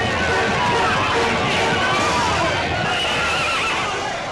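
Horses neigh and whinny loudly while hooves gallop beneath them in a dense battle scene with knights, a constant wash of noise with crowd-like shouting mixed in.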